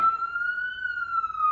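Police siren wailing somewhere in a residential neighborhood, one steady drawn-out tone, moderately distant and alone with no voices.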